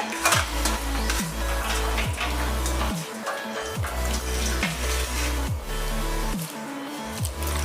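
Cold water runs from a tap over drained boiled pasta in a colander, a continuous close splashing and gurgling stream with rhythmic sloshing pulses.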